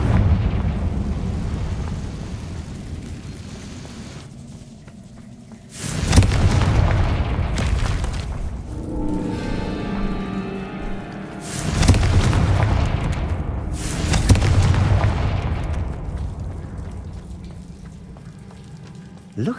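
Confringo spell explosions in Hogwarts Legacy, two heavy booming blasts several seconds apart, each followed by a long crackling, rumbling decay, with quieter ambient noise between them.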